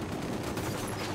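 Sustained automatic gunfire from Ghost Recon Wildlands roars as a dense, unbroken rumble of rapid shots, loud and close, with no voices over it.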